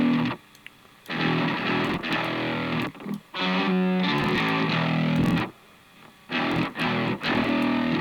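Processed, distorted sound from a reverb plugin breaking up in choppy bursts with abrupt dropouts and stuttering artifacts, starting and cutting off irregularly.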